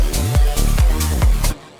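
Busy electronic music drop made in Ableton, loud and dense, with four pounding bass hits and pitch-dropping sweeps in a steady driving rhythm before cutting off abruptly.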